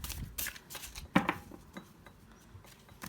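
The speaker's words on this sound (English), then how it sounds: "Let's just get the cards shuffled." Tarot cards shuffled by hand at close range, a run of soft riffling flutters and crisp snaps with one sharper slap near the middle, fairly quiet in a still room.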